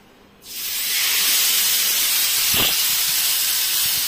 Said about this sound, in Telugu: ఇప్పుడు మనం ఇంకా ఫ్రై చేసేద్దాం.